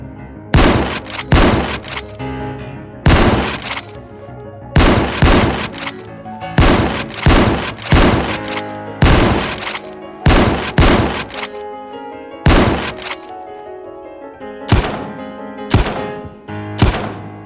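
Sharp, loud pistol shots ring out in a Minecraft battle, coming in repeated bursts of two or three cracks, close and alone with no talk over them.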